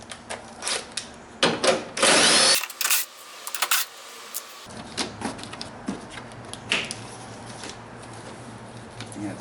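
Short whirring bursts of a power drill or impact driver backing out 10 mm radiator shroud bolts on a 1999 GMC Suburban, with metallic clinks and handling noise between the bursts and no talk.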